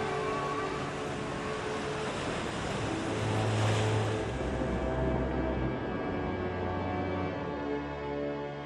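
Ocean swell and churning waves break along South Africa's west coast, a loud continuous surf roar that swells midway, with no voices.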